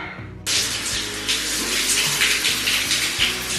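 Water pours steadily from a shower head in an office bathroom, starting abruptly after a brief moment of quieter sound, then hissing loudly and continuously up close with no talking.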